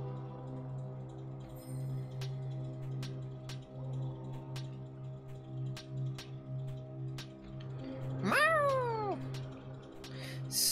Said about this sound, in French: un chat avec une feuille d'érable dans la bouche